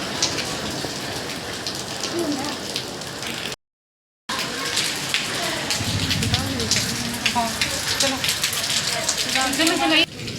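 Heavy rain pounds down in a dense, loud, continuous patter close by, with a brief cut to silence partway through; a person talks over the downpour.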